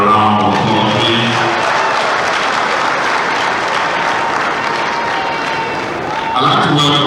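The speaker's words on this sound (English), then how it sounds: "Can we give him another round of applause, please?" A conference audience at a regional development forum applauds in a steady, dense round of clapping that fills the hall, with a voice over a loudspeaker cutting in near the end.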